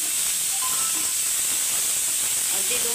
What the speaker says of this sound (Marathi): मिरची आणि कांदा आणि टोमॅटो। तर हे सुद्धा आपण आता छान असं परतवून घेऊ